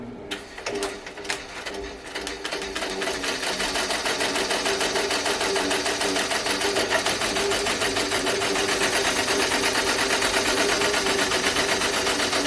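A 15-needle home embroidery machine runs at slow speed, its steady, dense mechanical whir and rapid rhythmic needle clatter holding constant and close for the whole stretch, with no talking.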